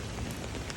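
Steady rain falls during an atmospheric river near San Pablo, a dense even patter of drops on surfaces with no voices.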